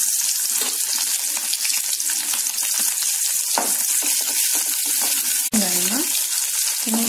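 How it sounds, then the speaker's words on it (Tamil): Small onions drop into hot oil where mustard seeds and urad dal have already spluttered, for mutton kulambu, making a loud, crackling sizzle with scattered pops and a brief voice near the end. "இப்போ கடுகுளுத்த பருப்பு போடுறோம், கடுகு பொரிஞ்சிடுச்சு, வெங்காயத்தை போடுறோம்."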